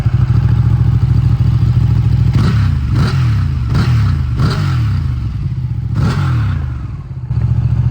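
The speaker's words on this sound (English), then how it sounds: "We're gonna just take a listen. This is a stock muffler, and it sounds pretty good for a stock." A Ducati V-twin motorcycle with stock muffler idles with a thumping, uneven beat, then the throttle is blipped several times in quick revs before it settles back to idle.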